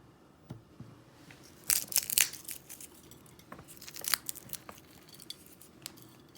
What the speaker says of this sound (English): And we're going to put some pieces of cinnamon.